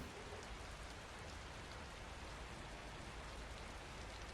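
Steady rain pours down in the murder-mystery video game Conscience, an even, dense hiss with no breaks, rather faint overall and with no talking.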